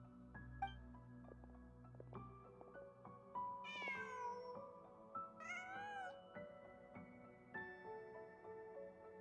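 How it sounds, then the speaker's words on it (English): A cat in Genshin Impact meows several times in short, rising and falling calls over a soft, sustained game music bed. "Huh. Just a cat."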